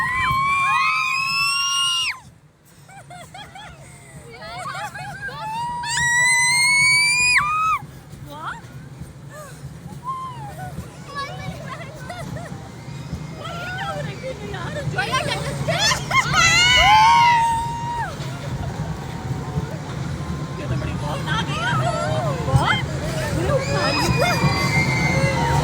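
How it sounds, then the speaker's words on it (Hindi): People screaming on an amusement park ride, shrill shrieks and yells rising and falling over a constant rumbling ride and crowd noise, loud and continuous throughout. "ये जो हम चीखें मार रहे थे।"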